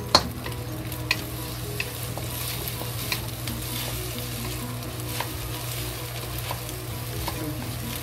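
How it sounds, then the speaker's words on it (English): Egg and spinach stir-fry in a pan with a continuous soft sizzle, punctuated by sharp clicks and taps of a utensil against the pan at irregular intervals. "Just fry until the egg is fully cooked and that raw egg smell is gone."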